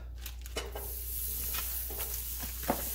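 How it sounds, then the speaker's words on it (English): Butter sizzling in a hot skillet, a steady soft hiss with a few faint pops and a light scrape of a utensil, close by and with no talk. "I'm going to put a little bit of butter in it."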